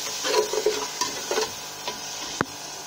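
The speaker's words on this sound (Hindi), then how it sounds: "दही डालने के बाद इसको अच्छी तरह से मिक्स करेंगे।" Yogurt being stirred into a potato and rice mixture in a pan, with soft scraping and squelching strokes of a spoon, a faint sizzle beneath, and a sharp click of the spoon against the pan near the end.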